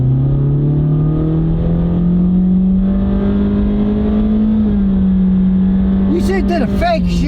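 A Honda car with a CVT accelerates hard at a drag strip, its engine holding a steady, loud drone that climbs slowly in pitch and dips briefly as if shifting, heard from inside the cabin.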